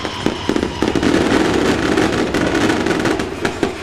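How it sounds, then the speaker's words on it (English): Fireworks at a high school football game, a dense continuous crackle and popping with sharper bangs throughout, loud and sustained from a distance. "Triway enters the field, and as they always do, nice little fireworks display"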